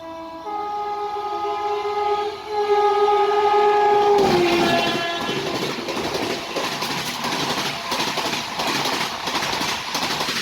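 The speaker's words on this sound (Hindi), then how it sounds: "पीछे से किंग यानी हावड़ा राजधानी एक्सप्रेस आ रही है इस ट्रेन को ओवरटेक करने के लिए" Howrah Rajdhani Express roaring past alongside on the railway during an overtake, a loud sustained horn blast giving way to a dense, continuous rush of wheels and carriages close by, with no talk.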